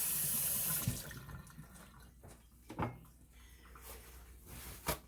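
A dehydrator part is washed under a running kitchen sink tap, water pouring steadily at first, then quieter splashing with a few clunks of the piece knocking against the basin.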